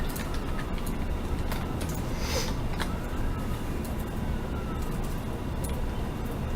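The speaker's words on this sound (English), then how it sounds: "More sirens." Sirens wail outside at a distance, faint rising and falling tones heard through steady indoor room noise, with no one speaking.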